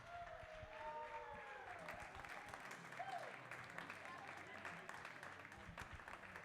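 Audience applause at the finals of a tournament, a steady, rather faint spread of clapping that carries on throughout, with voices and a speaker's tones over the top.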